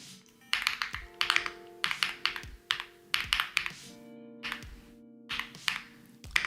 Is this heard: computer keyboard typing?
yes